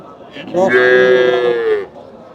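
A dairy cow at a cattle market in Bogura, Bangladesh, lets out one long, loud moo lasting over a second, close by, with faint background noise before and after.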